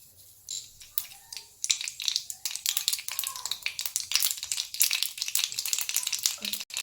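Rapid crackling and popping of mustard seeds in hot oil, starting sparse then bursting into dense, sharp pops close up.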